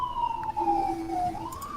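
A wailing emergency siren rises and falls steadily, fairly distant and thin, with no voices over it.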